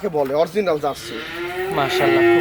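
A Jersey heifer at a cattle market gives a few short lowing calls, then one long drawn-out moo, loud and close.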